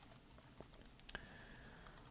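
Computer keyboard keys clack in a quiet room, a run of light, irregular taps close by with no talking.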